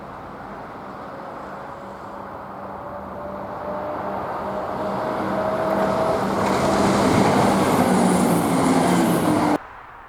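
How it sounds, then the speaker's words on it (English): Class 170 diesel multiple unit 170407 climbing the gradient toward Carrbridge on a Glasgow to Inverness service, its engine drone and wheel noise swelling steadily as it passes, then stopping sharply. "Class 170, 170-407 passes with the 1207 Glasgow Queen Street to Inverness working."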